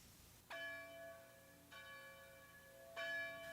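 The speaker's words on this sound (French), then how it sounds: "les cloches de l'église se mirent à chanter Noël" Church bells ring out in three strikes, each a rich metallic clang with a long humming decay, fairly distant and unhurried.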